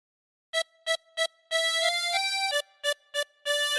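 Tremolo harmonica playing Hey Diddle Diddle, heard alone and close: clusters of three short detached notes alternate with longer sustained, shifting reedy passages, the bright wavering tone repeating in a regular phrased rhythm.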